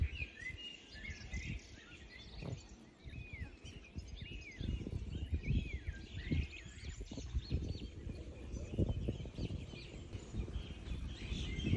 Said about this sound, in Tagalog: ibon lang talaga maririnig mo.